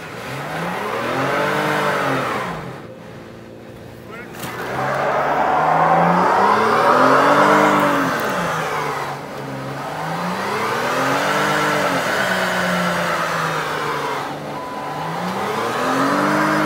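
A daily-driver car doing burnouts revs hard in long, rising and falling sweeps, loud and close, with a brief drop before it climbs again.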